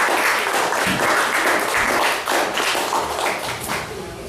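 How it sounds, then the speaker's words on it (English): An audience at a live poetry event applauds steadily for several seconds, a dense wash of clapping with a few cheers mixed in. "Another round of applause for Blackman."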